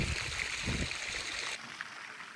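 A rose garden water feature trickles and splashes in a soft, continuous wash of moving water, fairly quiet with faint background rumble.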